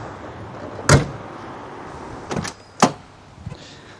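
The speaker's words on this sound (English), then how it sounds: "I just love the sound of the door homing." A car door thuds shut with a few sharp, close knocks spaced over several seconds, alongside softer mechanical clunks and a quiet background hum.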